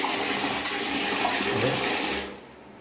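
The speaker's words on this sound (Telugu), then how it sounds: "ఇప్పుడు పైపులో లోపల నీళ్ళు వెళ్తున్నాయి లోపలికి" Water rushing through the inlet pipe into an LG top-load fully automatic washing machine, a loud, steady gushing flow close by that cuts off sharply near the end, with no voices.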